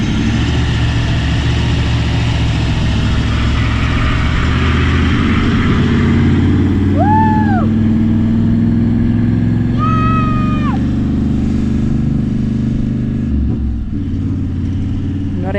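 Car engine revving while stuck in soft beach sand, giving a loud continuous low rumble that rises and falls, with brief high whines over it and the engine dropping away near the end.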